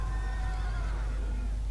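A horse in the video game Call of Duty: Black Ops II gives a single whinny with a falling, wavering pitch over a loud, constant low hum.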